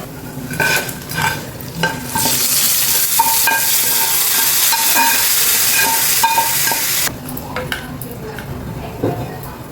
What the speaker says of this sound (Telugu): దీన్ని తీసుకొచ్చి మనం ఈ పులుసులో వేసేసుకున్నాం